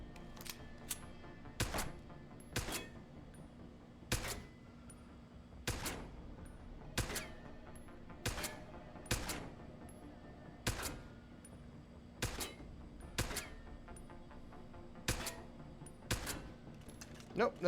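Single gunshots in Deus Ex: Human Revolution, a dozen or so sharp cracks spaced one to two seconds apart over a steady low ambient hum, moderately loud and close.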